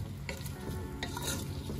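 Red onions fry in a pan for a beef and broccoli stir-fry, giving a steady close sizzle with a few light scrapes and crackles on top.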